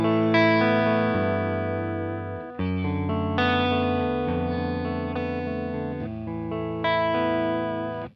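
An electric guitar played through an HX Stomp/Helix amp with stacked gain stages rings out in sustained, distorted chords, several strums each left to ring before the next, with a thick, saturated tone.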